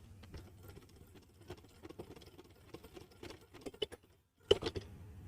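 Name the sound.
domestic sewing machine stitching blouse piping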